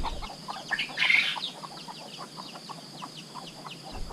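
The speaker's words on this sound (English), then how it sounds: "It's like bloody Linford Christie, this cockerel. Look at that." A cockerel in Thailand clucks and calls in a burst of fowl noises, with one louder squawk near the middle, close by and alone without talk.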